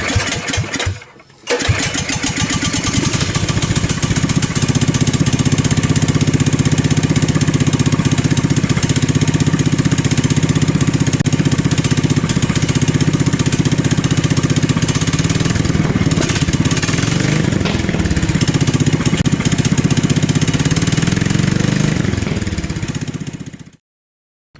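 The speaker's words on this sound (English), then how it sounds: "now that we have the engine running" A 420cc go-kart engine starts and then runs steadily for over twenty seconds, a loud, close, chugging small-engine drone that stays even before cutting off abruptly at the end.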